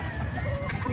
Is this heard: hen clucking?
yes